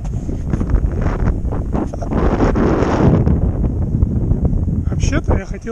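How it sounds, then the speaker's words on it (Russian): Strong wind roars and buffets the microphone continuously, a loud rushing gust rising in the middle and easing toward the end. "Сильный ветер, буду говорить громко."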